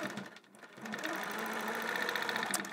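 A longarm quilting machine on a frame stitches a quilt block with a fast, steady mechanical chatter that starts after a brief pause and runs continuously at close range.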